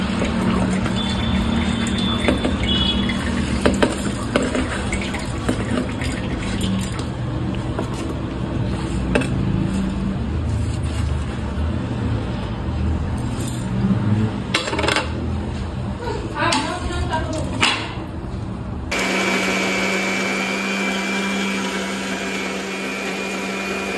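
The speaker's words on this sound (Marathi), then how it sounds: "हे सगळं आपल्याला ना ग्राइंड करून घ्यायचं मिक्सरमध्ये" A kitchen mixer grinder whirs steadily while grinding amla, ginger, cumin, lemon, jaggery and mint for juice, a continuous motor drone with rattling clatter that runs for most of the stretch and then shifts to a smoother, quieter tone.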